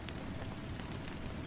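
Steady rain falls continuously in a dense, even wash of drops with no pauses, moderately quiet and close, filling the background of a calm nighttime setting.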